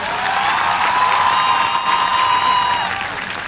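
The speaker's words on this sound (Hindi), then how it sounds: "एक दफा उनके लिए भरपूर तालियां होनी चाहिए" A college audience gives loud, sustained applause for student speakers, dense clapping with some cheering and a high whistle-like tone running through it.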